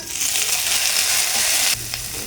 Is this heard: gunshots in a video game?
no